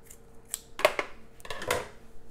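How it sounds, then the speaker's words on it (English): Scissors snip fur off a rabbit foot, giving several close, crisp cuts in uneven bursts with brief pauses between them. "then we're going to take scissors to cut the rest off"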